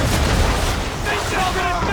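Dense, close musket volley and rolling gunfire from the Xbox 360 game Assassin's Creed 3, a continuous loud wash of cracks and booms with shouted voices mixed in throughout.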